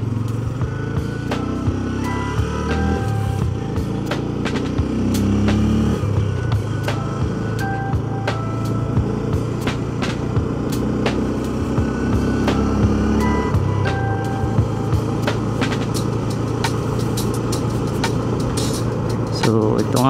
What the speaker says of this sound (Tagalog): So ito nga pala yung Yamaha PG1, bagong labas nila, 115cc, single overhead camshaft.